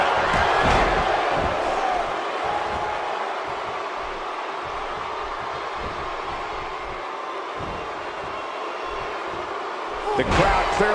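Wrestling pay-per-view crowd at a triple threat match, a steady loud roar of cheering and shouting sustained throughout, with a sharper swell near the end.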